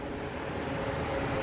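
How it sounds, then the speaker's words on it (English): Steady, continuous roar of road traffic by a waterside nature spot, a dense broadband rumble with no breaks, heard alone without any voices. "Sorry for the road noise."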